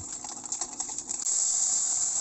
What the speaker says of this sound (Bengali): আমি সর্ষে দিয়ে ভালো করে সর্ষেটাকে ঘুটে নেব।